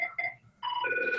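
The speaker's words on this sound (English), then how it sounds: "The meeting room phone here is getting a call." A meeting room telephone rings with a clear electronic tone, one short burst and then a longer sustained ring after a brief pause, loud and close with no talk over it.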